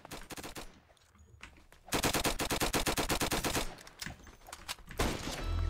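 Rapid automatic gunfire in the Roblox game Flag Wars, bursts of rattling shots in fast rhythmic runs separated by short pauses, close and punchy.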